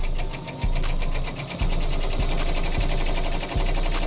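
An embroidery machine stitching out a customer sample design, a steady fast mechanical whir with rapid needle chatter and regular thumping pulses, loud and close, running continuously without any talking.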